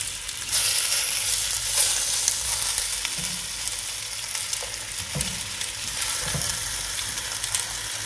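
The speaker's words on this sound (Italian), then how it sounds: "Adesso facciamo rosolare." Food browns in a very hot pan with no oil, giving a steady, close sizzle with occasional stirring scrapes and no talking.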